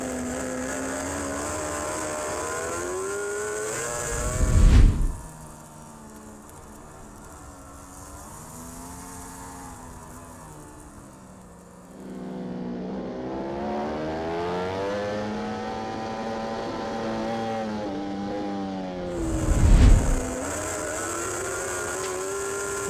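British Superbike race motorcycles, including a Honda and a BMW, roar past on track at Knockhill, with two loud close passes bracketing a stretch of distant rising and falling engine whine from the circuit.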